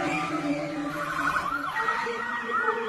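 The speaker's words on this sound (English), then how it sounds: "The ambulance rushed her to the hospital" An ambulance siren wails in a steady rising and falling tone, fairly loud and close, sounding alone without any voices over it.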